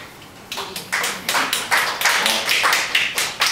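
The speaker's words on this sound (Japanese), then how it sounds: "上から拍手してみましょうか。" Applause from a small audience at an anti-nuclear citizens' meeting in Suginami, a short burst of close, bright hand claps that starts after half a second and keeps up steadily, with no talking.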